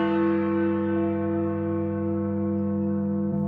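Big Ben, the great bell of the clock tower at the Houses of Parliament in London beside the Thames, sounding one deep, rich, sustained tone that hums and slowly fades, with no voices over it.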